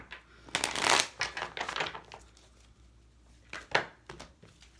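A deck of tarot cards is shuffled close up in a few quick riffling bursts, with a brief pause and one more short shuffle near the end; no one speaks.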